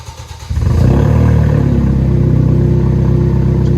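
A 2011 Kia Optima SX T-GDI with straight pipes, quiet at first, then suddenly breaks into a loud, raspy, droning rev that holds steady and close.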